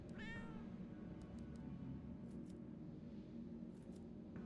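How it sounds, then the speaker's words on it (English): A single short cat meow from the game Tokyo Dark rises at the start, then a few faint clicks follow over a low steady background hum. "It's a cat."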